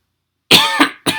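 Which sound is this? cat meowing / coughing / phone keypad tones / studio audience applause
coughing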